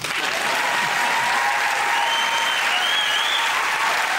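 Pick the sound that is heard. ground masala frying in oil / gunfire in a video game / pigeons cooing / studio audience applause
studio audience applause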